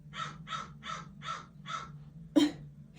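Crows cawing in cold outdoor air: five evenly spaced harsh caws in a quick series, then a short pause and one more sharp, louder call, fairly close and clear over a low background hum.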